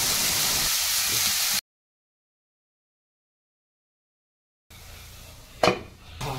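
Fenugreek leaves fry in oil in a pan on a stove, giving a steady close hiss of sizzling that cuts off, then returns more softly with a brief clink of a utensil against the pan.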